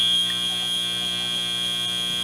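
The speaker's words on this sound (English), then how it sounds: "Buzzer sounds, thumbs ups from our refs all around." End-of-match buzzer at a FIRST Tech Challenge Centerstage robotics league meet: a loud, steady electronic tone that holds for a couple of seconds, then cuts off abruptly.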